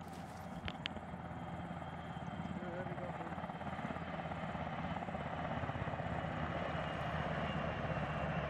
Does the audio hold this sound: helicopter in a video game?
yes